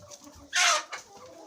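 A single short hen cluck, close and clear, against quiet background sounds.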